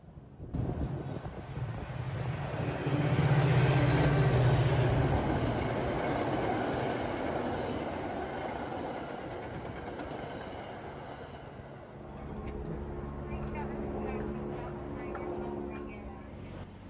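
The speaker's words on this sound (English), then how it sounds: "Here's an outbound Fitchburg train with F40PH-2C number 1072 roaring past." An outbound MBTA Fitchburg diesel commuter train led by an F40PH-2C locomotive roars past nearby, loud rumbling engine and rattling cars swelling then fading, with the steady drone continuing afterward.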